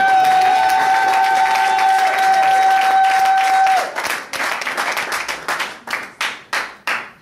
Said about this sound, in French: Allez, applaudissez pour la gloire de Dieu